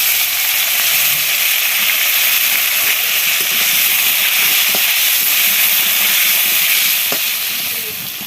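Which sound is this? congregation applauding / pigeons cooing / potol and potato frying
potol and potato frying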